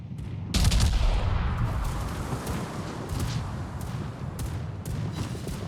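A battleship broadside fires in a naval video game as the Kongo is targeted: a sudden heavy boom of guns, then a long rolling rumble with scattered distant cracks and blasts.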